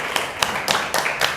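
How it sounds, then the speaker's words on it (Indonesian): A class of students clapping hands together in a classroom, a handful of distinct, fairly loud rhythmic claps spaced roughly a quarter second apart over a faint room background. "beri tepuk tangan untuk kita semua."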